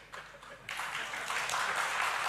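A theater audience at a national creatives summit breaks into applause and cheering, starting softly and then swelling into a dense, sustained wash of clapping that carries on at an even level.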